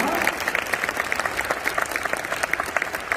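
A crowd at a school graduation ceremony claps steadily for a few seconds, dense and fairly loud, with no voices over it.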